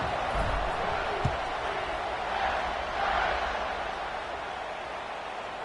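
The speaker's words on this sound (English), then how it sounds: "this crowd is buzzing after that last score" A college football video game stadium crowd buzzes with a steady, dense roar late in the fourth quarter after a score, a constant wash of noise with slight swells.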